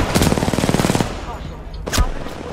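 Rapid automatic gunfire in Titanfall 2, a loud close burst of evenly spaced shots for about a second, followed by two sharper single blasts after a brief pause.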